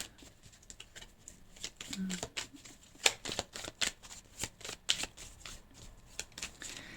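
Tarot cards are shuffled and drawn up close: a run of quick riffling and snapping card sounds with light tapping, while a voice talks quietly underneath.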